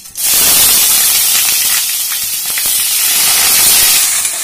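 Finely chopped onion hits hot oil in a pan on medium flame while making pizza topping sauce, giving a loud, steady sizzling hiss that starts abruptly and holds without a break.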